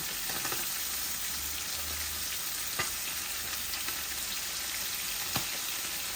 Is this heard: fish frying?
yes